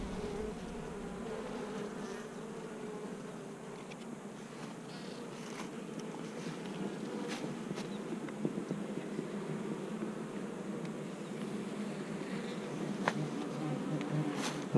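Honey bees inside a beehive, a dense, steady buzzing hum of many insects close up, with scattered sharper flicks and crackles, no voices.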